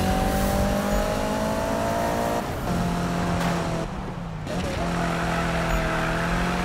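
Corvette engine in Need for Speed carving through corners, a steady droning tone under continuous tire noise with a brief dip in pitch midway, fairly loud and unbroken; no talk.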